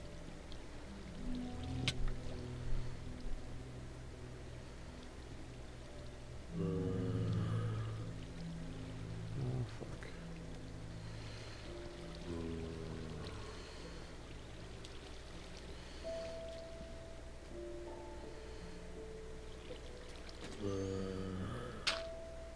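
Steady rushing flow of a waterfall in the video game Minecraft, a continuous watery wash running under scattered tonal game sounds and a few clicks, with no one speaking.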